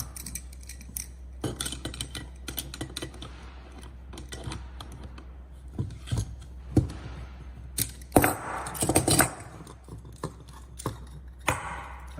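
Wrench work loosening a compression nut on a copper pipe: irregular metallic clicks, scrapes and taps, with a louder burst of rattling near the end, close and fairly quiet, no speech.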